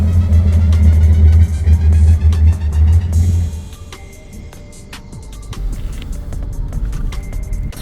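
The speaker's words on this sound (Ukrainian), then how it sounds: "Ось зараз вам покажу, який апарат під'їхав біля Taco Bell." Car pulling up outside a Taco Bell restaurant, a loud low engine rumble and throb close by for a few seconds that then drops away, leaving quieter idling and outdoor background noise.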